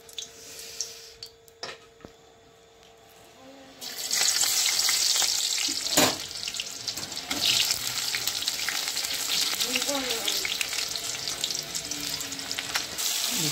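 Tomatoes dropped into hot oil for a goat-head dish, a quiet stretch with a few clicks giving way to a sudden loud, sustained sizzle and crackle, with stirring and spattering close by.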